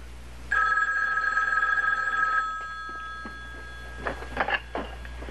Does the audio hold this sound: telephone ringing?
yes